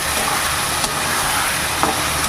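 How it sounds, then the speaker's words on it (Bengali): Masala paste of ginger, garlic, onion and chilli frying in a pan, a steady close sizzle with faint stirring scrapes and no talking. "মশলাটাকে কষিয়ে নেব"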